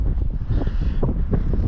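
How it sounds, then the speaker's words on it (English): Strong wind buffets a microphone on a mountain ridge in North Wales, gusting in uneven, rumbling bursts that rise and fall close to the mic in extreme conditions, with no voices. "It's too windy."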